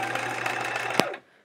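Sewing machine stitching a quilt row for a chevron quilt, a steady close whirring run that ends with a brief clunk and stops.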